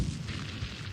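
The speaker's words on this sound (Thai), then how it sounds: "แต่ผมชอบเสียงยิงปืนว่ะ" Tank cannon fire and explosions in the tank video game Battle Tank, a dense, continuous booming rumble heavy in the lows that holds steady and loud through the brief moment.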